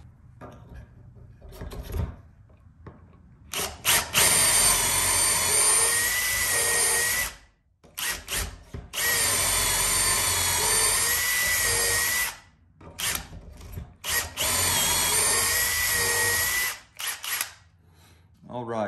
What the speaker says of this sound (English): And now we just drill our holes.